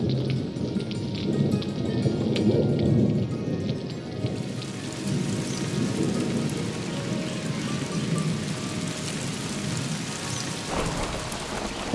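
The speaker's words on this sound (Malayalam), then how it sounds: "വസന്തത്തിനായി ഇടിമുഴങ്ങി." Steady heavy rain pours throughout with low rumbling thunder underneath, loudest early on, during a spring thunderstorm at a farm under dark clouds and cool wind.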